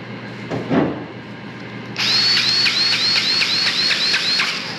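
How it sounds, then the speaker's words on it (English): A Snap-on mini buffer whirs up after a brief clunk and runs at a steady high pitch, with a repeating cyclic wobble as it works a painted surface during cut-and-buff polishing; close and loud, no talk. "Snap-on mini buffer."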